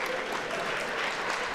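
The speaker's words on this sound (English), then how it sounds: "Round of applause for these wrong people." A keynote audience at a tech conference barbecue applauds, producing a continuous, even wash of clapping from many people throughout.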